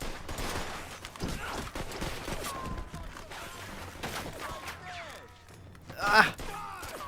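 Scattered gunshots in the Mafia 2 video game, fairly faint and mixed with thuds and background game noise, with one sharper burst near the end while a person talks.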